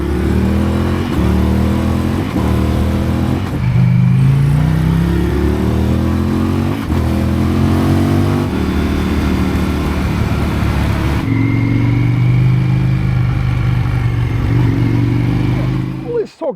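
A motorcycle out on a ride, its engine loud and close as it revs and shifts through rising and falling pitches, with wind rush and a few brief drops between gear changes.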